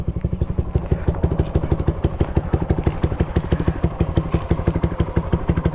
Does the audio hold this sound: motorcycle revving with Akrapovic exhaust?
yes